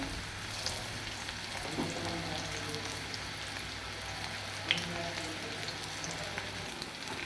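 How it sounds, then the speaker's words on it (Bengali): Potatoes fry in hot oil for a Kashmiri potato dish, giving a steady, fairly quiet sizzle and crackle with occasional stirring and utensil clinks, no talk over it. "এগুলো আমার আলু লাল লাল করে ভাজা হয়ে গেছে"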